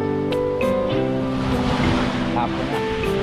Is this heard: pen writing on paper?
no